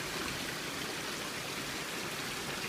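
A babbling brook in a nature park gives a soft, steady wash of flowing water, faint and even with no distinct splashes or voices.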